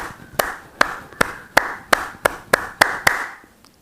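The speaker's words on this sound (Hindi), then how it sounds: "हाँ, तालियां बजाओ, आप धीरे धीरे बजाइए और बिल्कुल अच्छी तरह से" Slow, steady hand clapping with nine evenly spaced, crisp claps about a third of a second apart, close and clear with no talking, then a brief quiet tail.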